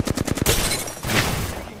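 Rapid automatic gunfire in the Apex Legends video game, a quick burst of evenly spaced close shots followed by a dense, continuous volley of firing and impacts.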